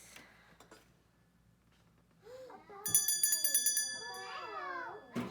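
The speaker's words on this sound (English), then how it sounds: "Okay, so you know it's a bell." An old school hand bell rings in a rapid run of bright metallic strikes, loud and close, following a quieter stretch of room noise and a few soft knocks.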